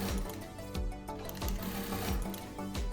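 Sun Special SS1967X industrial straight-stitch sewing machine running fast, close and loud, in short rhythmic bursts of rapid stitching with brief pauses between them.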